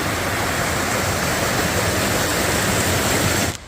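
The Peabody River flowing in the mountains near a fording site, a loud, steady rushing roar of water that holds constant for several seconds before dropping away abruptly at the end, with no voices.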